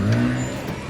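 A boat engine in a video game revs hard for a moment, a loud, close droning whir that sustains briefly and then eases off.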